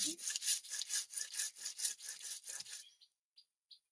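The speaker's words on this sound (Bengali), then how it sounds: "আমি এখানে কিছু ধনে জিরে নিয়ে এসেছি পরিমাণ মতো সেটাই বেটে নিচ্ছি" Coriander and cumin seeds ground by hand on a flat grinding stone, a steady run of rough back-and-forth scraping strokes, close and loud, about ten rhythmic passes, then a few faint scrapes trailing off.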